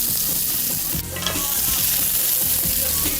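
Onions and lime leaves fry in hot sunflower oil in a preheated pan, a loud, steady close sizzle with a sharper crackle burst as the leaves hit, plus light stirring clatter throughout.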